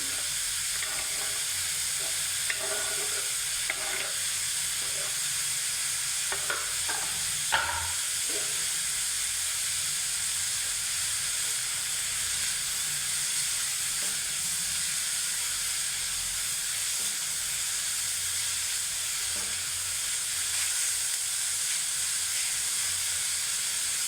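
Sliced radish and onion fry together in a pan with a low, continuous sizzle and hiss, broken by occasional soft stirring scrapes.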